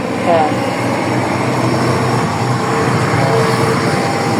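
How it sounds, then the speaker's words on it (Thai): A tractor engine runs nearby, a loud, steady mechanical drone with a low rumble and a faint whine drifting through it, holding constant throughout. "เสียงรถไถ"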